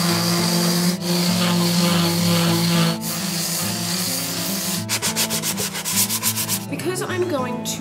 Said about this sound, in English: I'm going to use a hand sander for the flat part